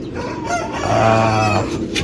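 Young chickens on a small farm in General Santos cluck and a rooster lets out a loud, drawn-out crow close by, with a few sharp clucks toward the end.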